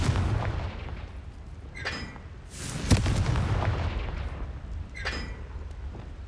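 A Confringo fire spell from Hogwarts Legacy bursts in a loud blast near the middle, preceded and followed by smaller crackling impacts over a rumbling game background.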